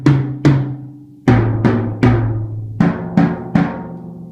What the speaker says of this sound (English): Up here we have our two head toms, and down over here we have a floor tom, and they each sound like this.